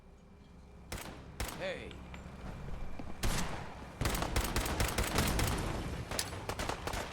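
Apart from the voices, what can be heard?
gunfire in a battle in the video game Fallout 4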